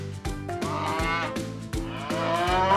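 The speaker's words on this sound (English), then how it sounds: "C is for cow." A cow moos repeatedly over a bright, bouncy children's alphabet song, the lowing blending with steady music throughout.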